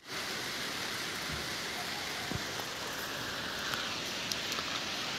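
Steady rain falling in Bandipora, Kashmir, a constant dense hiss that keeps an even level throughout, with occasional faint drip or patter accents and no talk.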